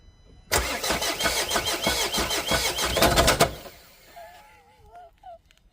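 Renault Trafic van with a massive engine failure, the engine firing up and running roughly with rattling pulses for about three seconds before cutting out, followed by faint mechanical whines.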